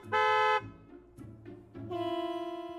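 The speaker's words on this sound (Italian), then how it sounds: "Il rumore di un clacson." Car horns honk in a staged street scene: one long, loud blast opens, a few short faint toots follow, then a second sustained horn rises and holds to the end over a low engine rumble.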